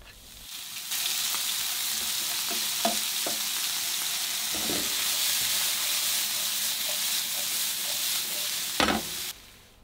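Onions and bacon dropped into smoking hot oil in a galley pan, a loud, steady close-up sizzle running for several seconds with a few light knocks of utensil on pan.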